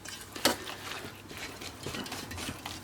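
A utensil stirs fried potatoes in a mixing bowl for an Italian tortilla, with a sharp clink against the bowl near the start, then soft, continuous scraping and mixing close by.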